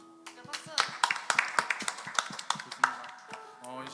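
A church congregation claps in brisk, irregular bursts for about four seconds at a worship service, the sharp hand strikes dense and close, with a voice speaking at the start and end.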